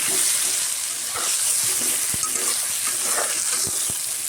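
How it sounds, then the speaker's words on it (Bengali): Brinjal pieces seasoned with salt and turmeric fry in hot oil, giving a steady, dense close sizzle throughout, with a few soft stirring taps underneath. "বেগুনটা ভেজে নেব।"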